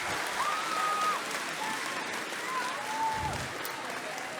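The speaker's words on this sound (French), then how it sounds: "On peut l'applaudir bien fort, s'il vous plaît." At an anime convention cosplay contest, a crowd claps for a cosplayer in a thick, sustained roar of applause with a few whistles rising over it.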